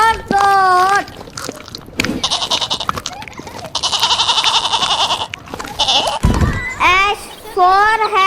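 A goat bleats in several long, wavering cries, loud and near, with a short stretch of a child-like voice before and after.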